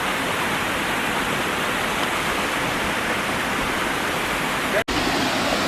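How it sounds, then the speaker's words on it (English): A hidden waterfall roars in a steady, dense rush of falling water, close and loud, unbroken except for one instant dropout near the end. "Found the waterfall."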